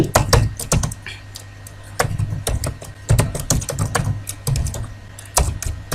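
Someone types on a computer keyboard while filling in an online visa application form. The keys clatter close and crisp in quick bursts, separated by short pauses.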